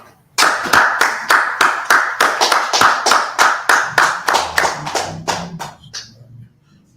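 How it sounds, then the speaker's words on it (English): A group claps together in a rhythmic, unison beat: about sixteen loud, close, evenly spaced claps that trail off into a faint low murmur at the end. "Let's go ahead and clap it up."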